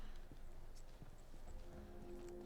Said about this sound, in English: More footsteps.